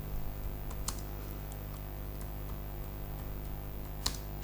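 Typing on a computer keyboard into a Google search, a quiet run of rapid light key clicks close by, with a couple of sharper taps, no talk over it.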